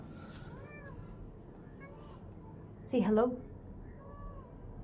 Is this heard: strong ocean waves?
no